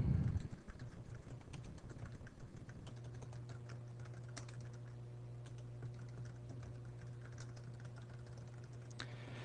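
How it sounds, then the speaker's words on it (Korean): Someone types a message on a computer keyboard, a fast, even stream of soft key clicks heard close up over a quiet, constant electrical hum. "작성한 쪽지의 내용을 입력하시고요"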